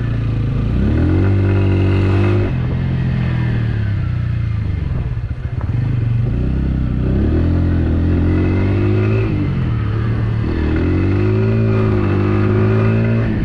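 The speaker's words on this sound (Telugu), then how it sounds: "ఇనిషియల్ గేర్స్లో చాలా లౌడ్ ఉంది ఎగ్జాస్ట్ నోట్ అయితే మాత్రం" A Bajaj Pulsar N160 motorcycle engine revs loudly in low gears through rising and falling pitch sweeps, with a throaty exhaust rumble close by and a brief dip midway.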